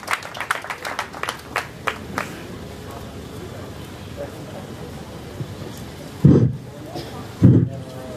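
Scattered, uneven clapping breaks out at a memorial gathering celebrating a woman's life, growing into a brief ripple before fading into quiet crowd noise, with two sharp bumps near the end.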